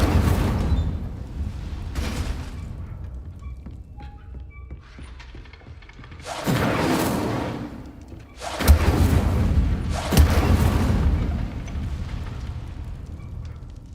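Fiery spell bursts from Hogwarts Legacy cast in quick succession: loud whooshing, roaring blasts at about 6.5, 8.7 and 10.2 seconds, each swelling and fading over a low rumbling game background with no talking.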